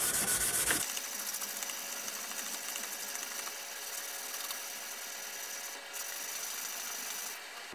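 400 grit sandpaper rubs steadily against an ESEE Izula 2 knife handle, giving a continuous close-up hiss of sanding with even strokes throughout.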